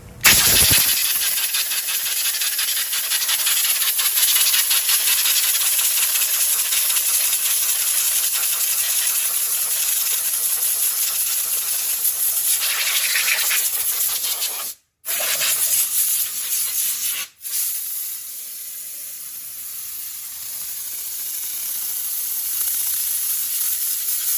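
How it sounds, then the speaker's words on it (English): Compressed air blasts steadily in a loud, close hiss while blowing moisture off a bike chain after pressure washing, with two brief cutoffs before the spray resumes. "That's some compressed air."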